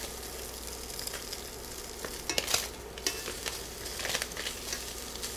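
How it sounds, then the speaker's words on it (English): Spam slices fry in a hot pan with steady sizzling and scattered sharp pops, the bursts clustering in the middle and near the end, close and moderately loud with no talking. "Spam is popping on the inside, and the more cooked ones on the outside."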